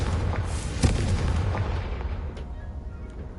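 Fire spell explosion in a fantasy video game: a loud close boom with a sharp burst, then a rumbling roar that slowly fades away.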